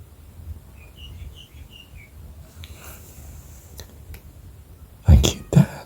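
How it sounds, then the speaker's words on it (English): Birds chirp faintly in the background, a short series of thin repeated tweets early on, followed by a few close, louder handling bumps near the end. "I just heard the birds singing in the background"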